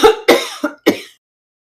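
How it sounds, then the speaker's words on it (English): A person coughs several times in quick bursts, loud and close, with a rough throat-clearing edge, then goes quiet. "I'm having a cough attack"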